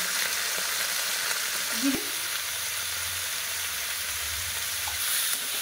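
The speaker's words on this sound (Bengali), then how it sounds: "তো চলো এটাকে ভালো করে মশলাটাকে মিলিয়ে ভাজা করে নিয়ে আসছি।" Fish fries in a pan with salt, chili paste and cumin, a soft continuous sizzle with one brief utensil knock near the middle and faint stirring, no talking.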